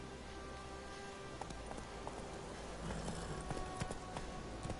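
Horse hooves clip-clop at a steady walking pace across ground in the video game Witcher 3, quiet and even beneath a soft background bed.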